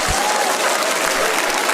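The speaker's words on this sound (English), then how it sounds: "Can you hear the crowd applauding?" Crowd applause played back through a phone, a dense steady wash of clapping that fills the whole stretch at even loudness.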